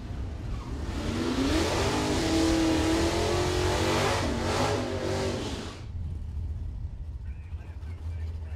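A naturally aspirated 427 cubic inch small block Chevy drag car revs and accelerates hard down the strip, a loud, rising engine roar for about six seconds that fades away, leaving crowd and track ambience.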